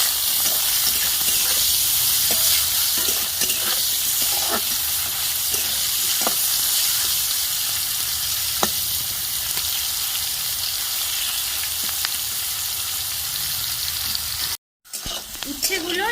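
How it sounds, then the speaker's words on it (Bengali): Pieces of bitter gourd fry in oil with turmeric and salt, a loud, continuous sizzle and hiss with scattered stirring clicks. Near the end it cuts out briefly, then returns. "এবার লাল লাল করে উচ্ছেগুলো আমি ভেজে নেবো"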